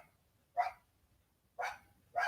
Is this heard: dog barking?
yes